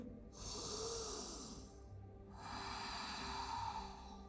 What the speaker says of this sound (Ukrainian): І заключний глибокий вдих.